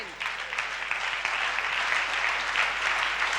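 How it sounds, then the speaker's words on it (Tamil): A Tamil church congregation at a monthly promise worship service applauds together, producing a steady, sustained wash of many hands clapping in a large room, continuing evenly without a break. "கைத்தட்டுங்க பார்க்கலாம்."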